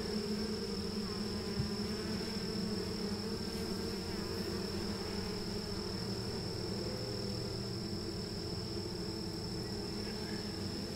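Honey bees drone steadily at an opened horizontal hive, a dense, even buzz that holds without a break from start to finish, with no voices over it.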